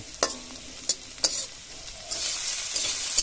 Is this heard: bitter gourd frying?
yes